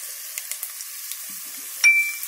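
Mustard seeds and dried red chillies hit hot oil in a pan, producing a brisk, close sizzling hiss with faint crackles and one brief metallic ring partway through.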